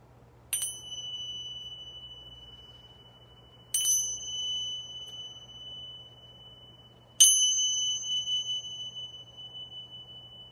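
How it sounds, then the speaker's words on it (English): A chime struck three times, each a bright ringing tone with a sharp attack that decays slowly over a few seconds, spaced evenly apart against a quiet background hum. "I'm going to chime some beautiful chimes. And I will chime three times."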